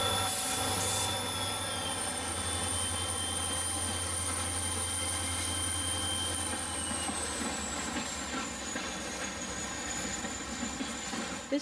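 An HO scale model Western Pacific train, led by GP40 No. 3544 with two trailing units, runs steadily past at close range with a continuous low rumble of motors and wheels and faint high squeal, heading west through a canyon scene.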